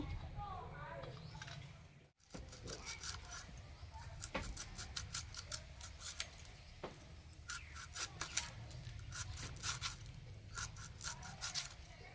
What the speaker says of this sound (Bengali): এই বীজগুলো ছোট ছোট করে কেটে নেব।